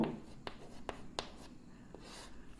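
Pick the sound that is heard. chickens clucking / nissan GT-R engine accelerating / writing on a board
writing on a board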